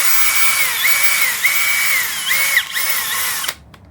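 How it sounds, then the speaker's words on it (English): Wire brush spun by a power drill scrubbing rust off a steel wheel: a loud, close, whirring grind with the motor pitch dipping and rising as pressure changes, cutting off abruptly near the end. "brush it out more with the wire brush"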